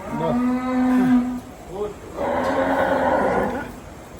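Cattle low at night beneath a bridge at a livestock market, with a long, close moo followed by a second throaty bellow, while a faint voice sounds in the background.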